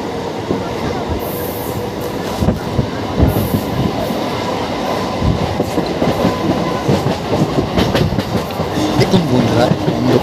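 A Howrah–Bardhaman super local train runs steadily on the rails in the dark near Masagram, with a continuous loud rumble, rattling carriages and scattered wheel clatter throughout.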